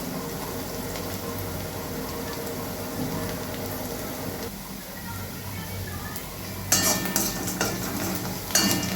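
Onions sautéing in a pan for a Tamil-style egg and cabbage stir-fry, a steady close sizzle and frying hiss with occasional stirring and utensil scrapes growing louder near the end.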